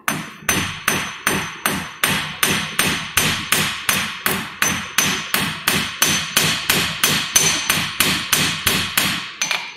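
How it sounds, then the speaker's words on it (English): Steady, evenly spaced hammer blows ring out on metal on an anvil's corner, forging a medallion head for a hook, about two strikes per second, loud and close, continuing without pause. "bring it over to the corner of my anvil and get the slight angle on my hammer strikes"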